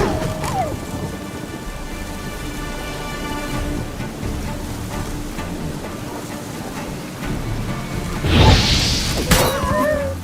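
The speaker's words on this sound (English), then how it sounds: "A storm, damn it." Steady rain and rolling thunder from a storm in The Witcher 3, a constant wash of rainfall with a louder thunderclap near the end; no talk.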